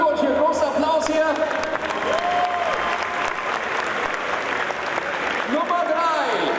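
An audience applauds at a German-language event, with sustained clapping throughout and a voice speaking over it intermittently.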